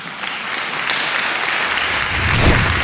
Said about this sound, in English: we will now give him a great round of applause for his talk about planning in the age of learning